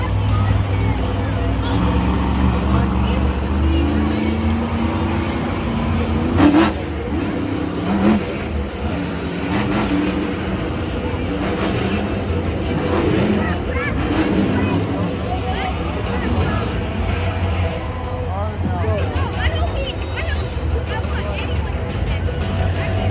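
Monster Jam monster truck Bakugan Dragonoid at an arena show in Denver, its engine droning and revving loudly and steadily throughout, beneath a constant roar of crowd babble.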